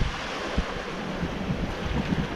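Wind buffets the microphone aboard a sailboat on the open Atlantic in a force 4 to 5 breeze, with following waves washing and rushing steadily under it.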